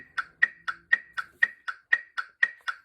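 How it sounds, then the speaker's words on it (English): Eleven evenly spaced metronome clicks at 120 beats per minute from an iPad, crisp and moderately loud with nothing else around them. "at 120 beats per minute, which sounds like this."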